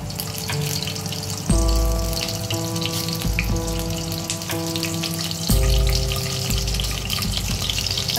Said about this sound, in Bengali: এবার এই তেলটার মধ্যে আমি প্রথমেই যেটা করব সেটা হচ্ছে কাঁচা লঙ্কাটা ভাজবো